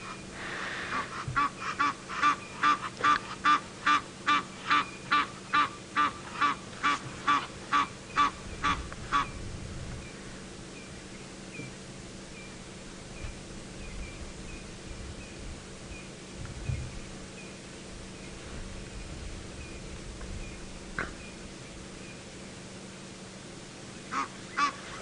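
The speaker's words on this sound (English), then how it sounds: "You can hear Egyptian geese basically alarm calling at the leopard." Egyptian geese honking alarm calls at a leopard on an evening safari drive, a rapid series of about fifteen distinct honks in the first ten seconds, then quiet bush ambience with faint scattered sounds.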